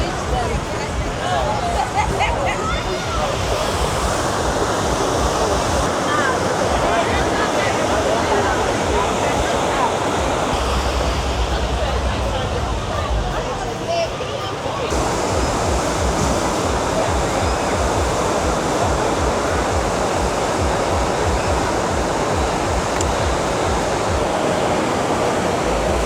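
Ocean waves breaking on a beach, a continuous loud roar of surf with rushing wash, steady throughout with brief shifts in tone and some faint crowd murmur.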